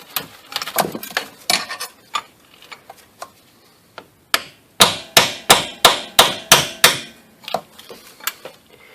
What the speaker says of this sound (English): now I'm going to get this chisel again and hammer on it some more